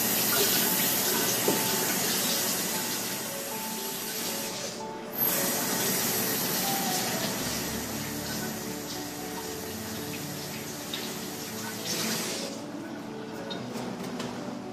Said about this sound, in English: I'm going to give these a good rinse.